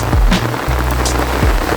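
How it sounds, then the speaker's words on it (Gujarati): Heavy rain drums steadily on surfaces outdoors, a loud close wash of patter with occasional low knocks and bumps beneath it. "જોઈ શકો છો અત્યારે વરસાદ ખૂબ જ છે."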